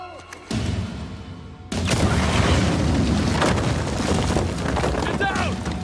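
A loud explosion goes off during an Uncharted 4 cutscene: an abrupt heavy blast followed by a sustained roaring rumble and scattered debris crackle, with voices shouting over it.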